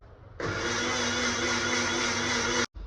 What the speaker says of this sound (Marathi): हे आता आपण फक्त एकदा मिक्सरला फिरवून घेणार आहोत